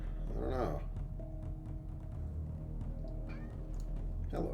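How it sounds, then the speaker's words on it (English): A cat meows close by and loudly, with one drawn-out call at the start and another at the end over a steady low hum. "kitty cat. Meow."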